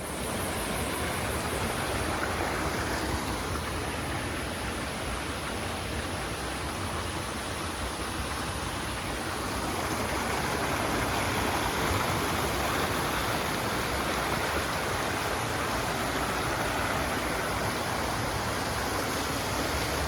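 A river stream flows through dense forest on a hiking trail, a loud, continuous rushing wash of water that holds steady throughout with no voices.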